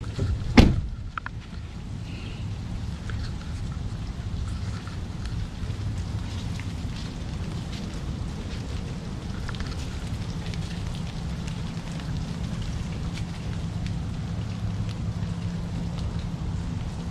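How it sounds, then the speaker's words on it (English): Torrential rain pours down steadily on moving day, a dense, continuous hiss and patter that holds at the same level throughout. One sharp knock is heard near the start, and no one talks. "it's raining, and it's been raining. They got about 5 inches of rain today."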